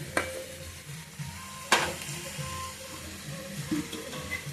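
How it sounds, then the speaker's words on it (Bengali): Potatoes and bitter gourd frying in a pan give a steady, soft sizzle, with a sharper clatter near the start and another partway through. "আর এখানে করলাম বন্ধুরা আলু করলা ভাজা"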